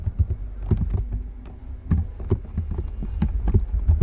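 Someone typing code on a computer keyboard, a close, steady patter of soft key clicks with uneven bursts and short pauses, and no voices over it.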